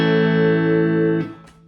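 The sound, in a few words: A major chord strummed on guitar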